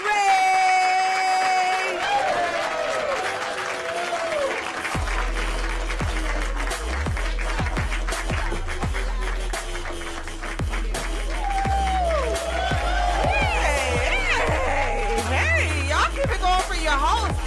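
At an all-female comedy show, an audience claps and cheers in a sustained roar with whoops and yells. Music plays alongside, and voices carry over the crowd throughout.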